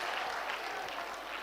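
Audience applause at a Dev Anand quiz event in Jaipur, dense steady clapping filling the whole moment, moderately loud and continuous without any voices.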